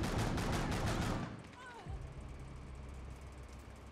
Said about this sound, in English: That was a multi-shot shotgun